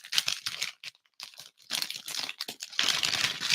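Crinkly plastic pepperoni package being pried open by hand, with repeated close crackling and crumpling bursts separated by short pauses, fairly loud throughout.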